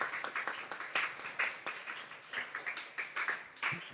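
A small audience at a press briefing for a primary schools' football tournament claps for school principals, with fairly close, uneven individual claps in a brief, moderately quiet round.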